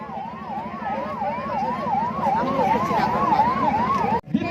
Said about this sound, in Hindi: एम्बुलेंस को छोड़ दीजिए प्लीज भाई लोग बहन लोग कृपया थोड़ा जगह बना देंगे